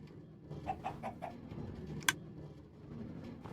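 Several short chicken clucks from the Minecraft game come in a quick run, followed by a sharp click, then a lone faint cluck, all quiet over a soft background.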